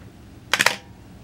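A Pentax P3n 35mm film SLR with a 50mm f/2 lens fires its shutter at a longer speed with the lens not stopping down: a close, crisp burst of two or three quick mechanical clacks in otherwise quiet surroundings.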